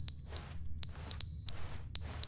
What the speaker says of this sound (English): That the smoke alarm?